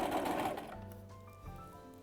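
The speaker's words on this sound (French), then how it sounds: "on baisse le pied et on continue notre couture" Sewing machine stitching a seam in fabric for a tart bag, a steady mechanical whir running close and loud, then slowing and continuing at a lower, even hum with a brief restart near the end; no talking.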